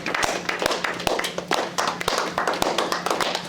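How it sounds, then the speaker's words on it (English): Scattered clapping from a small audience at a real estate seminar, sharp distinct claps in loose irregular rhythm close by, with a faint low hum beneath. "give yourselves a round of applause for being the ones that made it here today"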